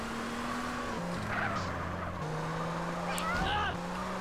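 Car engine in GTA San Andreas cruising down a slope, a steady mid-pitched drone with shifting tone and brief tire noise, steady and close throughout.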